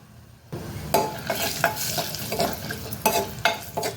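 Cumin powder and turmeric crackle and sizzle in hot oil as tempering for a green chilli sabji, with a steady frying hiss and a few sharper stirring clatters, close by and without talk.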